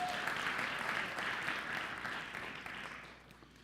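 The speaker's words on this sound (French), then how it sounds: "On applaudit la couronne de justice" A church congregation applauds in a broad, steady wash of clapping that holds for a few seconds and then gradually fades, with no voices over it.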